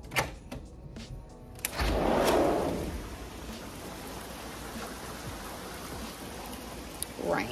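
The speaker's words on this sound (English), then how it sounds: "Oh my god, and it's raining." Steady rain patters outdoors as a constant hiss, with a few sharper drips and a brief rushing swell near the start.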